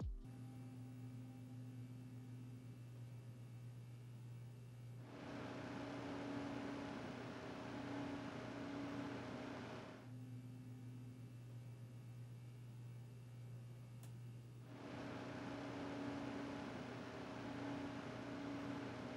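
A DeepCool AK400 CPU air cooler fan on an AM5 system hums steadily, with a low whooshing airflow that swells louder in two long stretches before settling back, faint and with no one talking.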